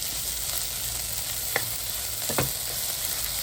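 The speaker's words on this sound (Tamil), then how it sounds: "இஞ்சி உள்ளி கலவையை போடுவோம். இதுவும் சேர்ந்து வெங்காயத்தோட வதங்கட்டும்." Ginger-garlic paste sautés with onions in a pan, a constant close hiss of frying with two faint scrapes of a spoon stirring, no voices.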